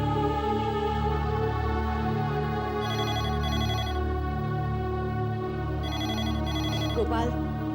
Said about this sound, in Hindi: गोपाल, जरा फोन देखना